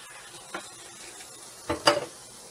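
Simmering cream stirred in a pan, a soft low sizzle under a couple of brief scraping stirs, the second one louder and longer near the end.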